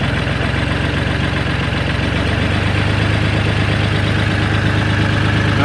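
A Ford 3000 tractor engine revving up from idle, its rhythmic knocking diesel chug rising in speed into a steady, loud, close-up run.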